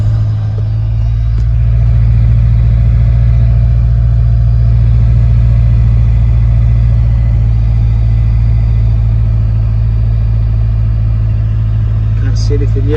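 Turbocharged Honda K20 engine in an EP3 Civic Type R starts and settles into a loud, steady, close idle with a deep constant hum, while a voice talks over it.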